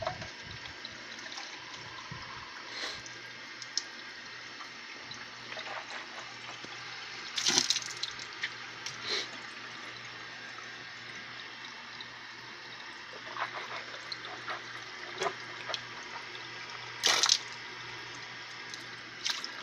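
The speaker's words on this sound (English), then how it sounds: "rinsing my mouth out with water" Water runs from a sink tap while someone rinses their mouth, with intermittent splashes and spits breaking through a steady faucet stream, close and fairly loud.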